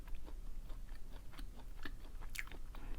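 Chewy diabetic-friendly bread with a springy crust eaten up close, with quiet, repeated soft bites and chewing in a steady rhythm and no talk.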